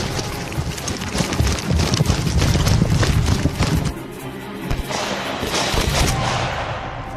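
Rifle shots at an outdoor military shooting competition, dense rapid cracks and booms overlapping with wind and rumble, loud and continuous before easing slightly for a few seconds.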